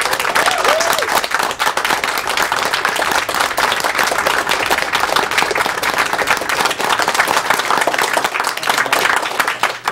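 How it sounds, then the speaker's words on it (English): Dense, sustained audience applause at a Games Done Quick speedrun marathon event for a 100% Metroid Prime run, loud and steady for the full span, with scattered crowd noise mixed into the clapping. "They deserve an extremely big round of applause for what they just did."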